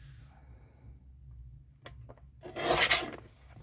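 Cardstock paper is trimmed down to size, a brief scraping rasp of a paper trimmer slicing through near the end, preceded by faint rustling in a quiet room.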